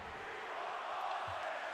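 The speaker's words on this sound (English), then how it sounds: "the Sixers crowd chanting, "We want Boston."" A Sixers home crowd chanting at an NBA playoff game against the Boston Celtics in Philadelphia, Game 6, a broad arena roar of many voices blending into a steady, distant-sounding chant without clear individual words.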